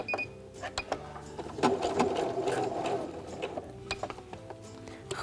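A sewing machine stitches a seam on a fabric bag, its motor whirring in uneven bursts with ratcheting mechanical clicks and ticks throughout, close and fairly quiet.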